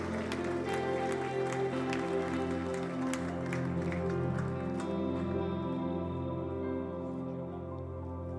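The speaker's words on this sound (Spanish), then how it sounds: "Dales aplauso fuerte a Él. Dales aplauso a nuestro Dios." Congregation applauding in a church service, a dense, steady wash of clapping over sustained music-like tones, fairly loud throughout and easing slightly near the end.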